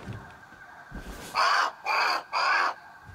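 Three loud, evenly spaced caws from a crow-like bird in the survival video game Grounded, each harsh call standing out clearly against a quiet background.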